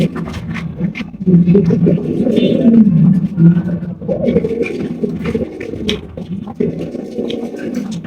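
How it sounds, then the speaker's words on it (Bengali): Close, loud cooing from a pair of almond-coloured pigeons, deep throaty rolling calls repeating in overlapping bursts with short pauses between them. "এখানেও রয়েছে একজোড়া শকিং কবুতর"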